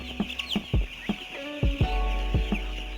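Eight-day-old broiler chicks on a poultry farm, with a series of short, sharp peeps and clucks spaced irregularly, some overlapping, close and fairly clear.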